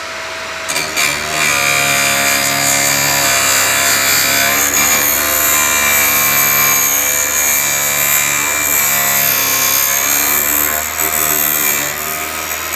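A Vevor drill bit sharpener grinds a drill bit that was once hand-sharpened, giving a loud continuous whine with shifting tonal harmonics and a rough abrasive edge that holds steady for several seconds.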